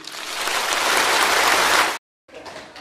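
An audience applauds after a political speech, dense sustained clapping for about two seconds before cutting off abruptly, then a fainter burst resumes.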